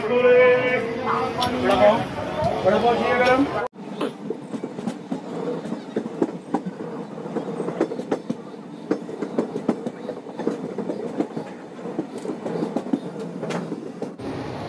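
A voice talks at first, then the Janshatabdi Express train rumbles with rhythmic clicking of wheels on rails, steady and close, as it arrives at Kankavli railway station.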